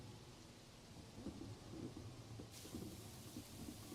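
Rain falls steadily at the Red Bull Ring in Gran Turismo 7, a faint even hiss with low rumbling underneath that continues throughout without any voices.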